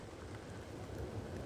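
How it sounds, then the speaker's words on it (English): Steady rain falling harder outdoors at a park at night, a dense continuous hiss of drops close by with no talking. "It's totally raining harder."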